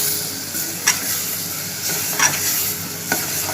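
Mashed eggplant bharta sizzles in a pan as it is roasted down, a constant frying hiss with three distinct spoon scrapes spaced through it, near and fairly loud, no voices.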